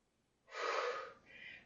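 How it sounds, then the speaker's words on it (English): A deep breath during an exercise session, drawn in as one long, fairly loud breathy rush and followed by a shorter, softer second breath, with no talking over it. "Big deep breaths."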